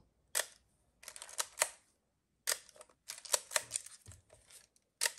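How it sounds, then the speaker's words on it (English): Several Leica M rangefinder film camera shutter clicks in short bursts, crisp and quiet, with pauses between groups; no talking. "So this is the sound of the Leica"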